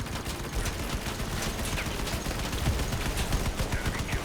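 Dense bursts of automatic gunfire from the video game Syndicate, rapid overlapping shots and fusillades filling the whole stretch at steady loudness.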